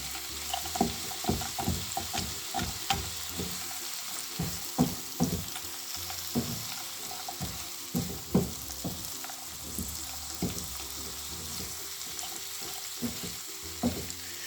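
Leeks, pancetta and peas frying in a pan while being stirred, with steady close sizzling broken by repeated scraping and clattering strokes of a utensil against the pan.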